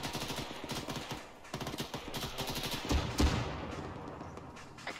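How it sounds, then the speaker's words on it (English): Bursts of automatic rifle fire in ArmA III, rapid rattling volleys at moderate distance with a couple of heavier thumps midway, no talk. "Shots from the east again."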